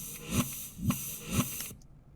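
A drum loop played backwards in Logic: three rhythmic reversed hits swelling up and cutting off sharply, roughly half a second apart, then silence.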